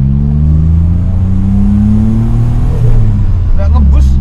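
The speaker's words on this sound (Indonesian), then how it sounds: "ada suara kayak putaran turbonya gitu, agak aneh" A Daihatsu Charade Turbo engine drones steadily from inside the car, its low hum shifting in pitch as revs change, with a faint odd whirring from the turbo and someone speaking near the end.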